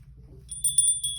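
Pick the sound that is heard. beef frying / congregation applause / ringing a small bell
ringing a small bell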